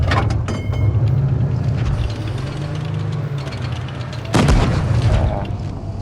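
A World of Tanks tank cannon fires on a mobile version of the game, giving a heavy booming shot over a low rumbling engine drone, with a second loud blast near the end.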